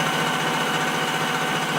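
Steady, even mechanical drone of a Bridgeport milling machine taking a slow finish cut, a constant whirring hum with fine high-pitched texture running unbroken and fairly close, no talk over it.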